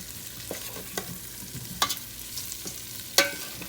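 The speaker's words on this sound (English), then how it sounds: "You're going to toss your potatoes in your butter garlic sauce like that." Potatoes tossed in a butter garlic sauce in a pan, giving a few soft scraping stirs and brief sizzling clatters spaced across a quiet kitchen background, with no talking.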